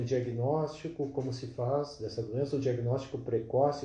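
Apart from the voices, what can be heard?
No everyday noise stands out behind the speech.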